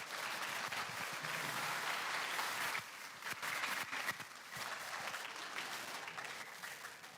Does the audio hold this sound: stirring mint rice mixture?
no